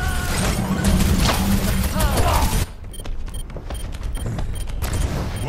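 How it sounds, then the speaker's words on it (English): A rocket barrage in the shooter game Overwatch: a dense, loud volley of rapid-fire blasts for a couple of seconds, then a quieter tail of crackling debris and rumble. "Rocket barrage incoming."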